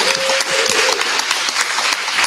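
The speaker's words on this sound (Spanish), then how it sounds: "Un aplauso para René" Audience applause at a fan convention interview, a steady dense wash of clapping filling the whole stretch, loud and continuous with no talk over it.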